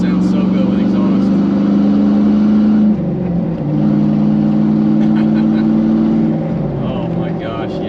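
A loud truck engine idles and revs, its deep tone rising and dropping in pitch a couple of times, with faint voices in the background.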